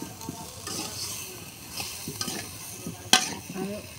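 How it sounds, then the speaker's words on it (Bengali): Fish seasoned with turmeric is stirred in a frying pan, giving a soft continuous sizzle with light scraping strokes and one sharp utensil clink near the end. "যে একটু হলুদ দিয়ে দিলাম, একটু লাড়াচাড়া দেয়।"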